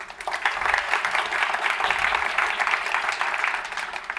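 Loud, dense applause from a conference audience in Washington greeting the host of Meet the Press on stage, steady clapping throughout with no talk over it.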